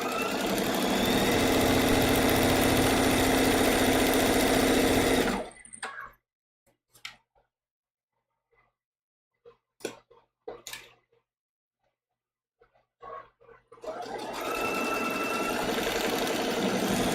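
A home sewing machine stitches seams on a small foundation-paper-pieced maple leaf quilt block, running in a steady loud whirring burst, then falling quiet with light handling clicks before a second sustained stitching run.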